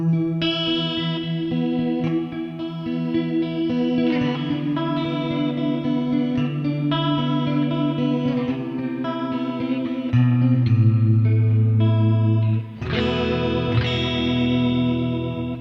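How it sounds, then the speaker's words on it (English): Electric guitar recorded through a Steinberg UR22C USB audio interface with reverb added, sustained chords ringing out with a lush, chorus-like wash and long tails, loud and alone with no talking. "So now I can start adding reverb to my sound"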